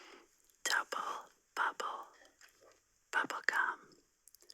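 Soft, wet bubblegum chewing mixed with close breathy whispering in slow bursts separated by brief pauses, intimate and quiet in a dark bedtime setting.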